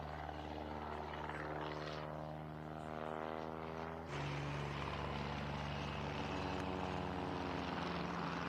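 Propeller drone of WWI replica fighter planes, an SE-5A and a Fokker DR-1, flying at a British airshow, a steady loud engine hum with a sharp shift in pitch partway through as one passes.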